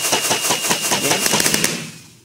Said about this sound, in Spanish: una ballesta que con un solo clic dispara una ráfaga de proyectiles